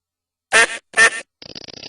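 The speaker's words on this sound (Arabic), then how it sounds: "بطة بطة" A duck quacks twice in loud, close, nasal calls, then gives a quicker rapid series of softer chattering quacks, with no talking.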